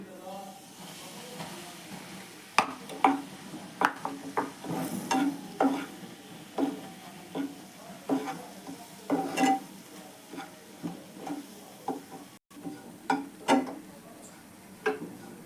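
Wheat flour roasting in oil and ghee in a pan, with a soft background sizzle under repeated scraping and stirring strokes of a spatula at an irregular pace.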